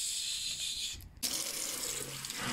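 A tap runs into a sink as hands are washed, a steady splashing stream that cuts off briefly, then resumes with a fuller rush of water.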